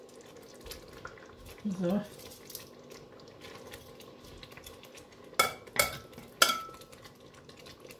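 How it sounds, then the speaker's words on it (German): Chicken meat going back into a sauce in a pan, with scraping and clinking of utensil against pan, a brief soft sizzle, and sharp metallic knocks toward the end, with a short spoken word. "Jetzt kommt das Fleisch wieder hier rein in die Soße."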